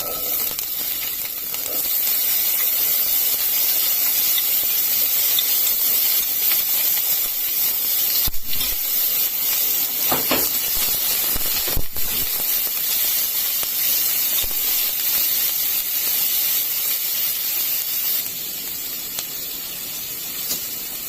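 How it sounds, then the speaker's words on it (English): Onion sizzling in hot oil in a pan for a broccoli, carrot and shrimp stir-fry, a loud continuous hiss that holds steady with a few brief scraping accents, easing slightly at the end. "The first ingredient to go into the pan after the oil will be the onion."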